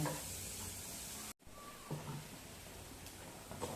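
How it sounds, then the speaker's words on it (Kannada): Onion frying in a pan for North Karnataka Betageri chutney, a soft, even sizzling hiss with a brief break and a few faint stirring touches. "ಉಳ್ಳಾಗಡ್ಡಿ ಚೆನ್ನಾಗಿ ಫ್ರೈ ಆಗ್ಬೇಕು ರೀ"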